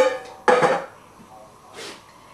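Two spoonfuls of lecithin land in a bowl during a chia seed and cacao cream recipe, giving a sharp clatter of a spoon against the dish followed by a softer second tap.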